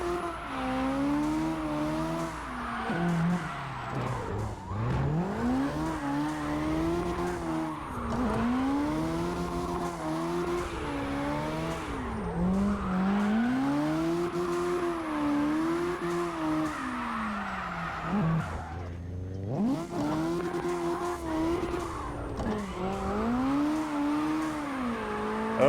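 A car in the CarX Drift Racing Online video game holds long sideways drifts, its engine note climbing and falling in repeated revving sweeps over a sustained tire squeal, briefly cutting out between drifts, with no talking.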